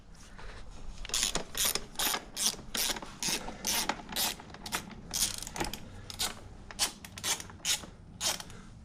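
A 17 mm ratchet working on the rear wheel of a Yamaha TTR dirt bike, giving bursts of quick, close clicking strokes in an irregular rhythm with short pauses between them.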